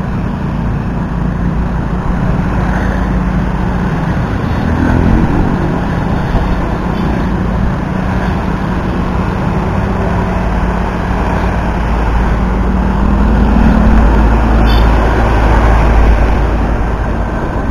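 Steady, loud road noise while riding a 2014 Beat FI motorbike through a traffic jam on Jalan Raya Pakuaji, the engine drone and wind rumble continuous throughout with no talking.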